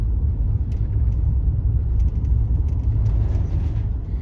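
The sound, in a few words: road traffic passing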